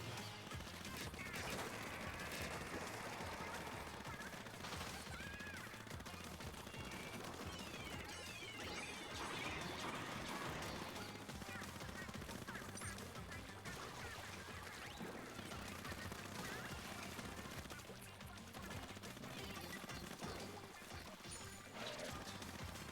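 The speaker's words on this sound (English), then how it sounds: "I got encased in someone else's booyah bomb" A Booyah Bomb special bursts amid the chaotic Splatoon 3 battle, with crashing, splattering impacts and constant busy game effects throughout.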